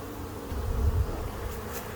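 Honeybees drone around an opened hive while a beekeeper adds supers, a steady low buzzing close by that swells briefly in the middle.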